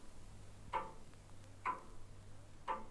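A clock ticks slowly and evenly, three soft clicks about a second apart over a quiet low hum, with no voices.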